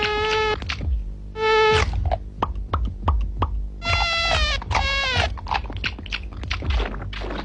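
Mosquitoes whine and buzz in a stylised burst for an All Out repellent advert, loud and close, with rising and falling tonal buzzes in choppy bursts mixed with short clicks.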